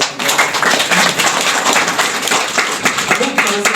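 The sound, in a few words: audience clapping for the village leaders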